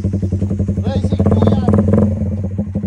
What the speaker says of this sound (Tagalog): Pare, may idle rumble.